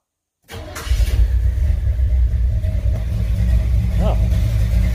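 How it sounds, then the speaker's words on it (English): A 1969 Chevrolet Impala engine, just after a rocker adjustment, cranks briefly and catches, then settles into a loud, steady, rumbling idle heard up close, with a brief rev partway through. "Let's see how long it takes to turn over."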